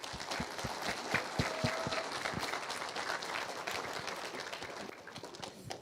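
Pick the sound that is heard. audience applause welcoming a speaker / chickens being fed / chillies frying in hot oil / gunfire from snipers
audience applause welcoming a speaker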